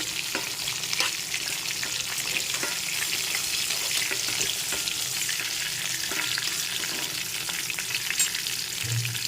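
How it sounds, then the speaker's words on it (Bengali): Pieces of pointed gourd (potol) fry in a pan with a steady, dense sizzle and some stirring, continuous and close. "এখন পটলের টুকরোগুলোকে ভেজে নিতে হবে ভালো করে"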